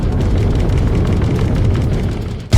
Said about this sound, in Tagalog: nagpakawala nga ulit ito ng sobrang lakas na wave blast na nagresulta na naman ng sobrang lakas na pagsabog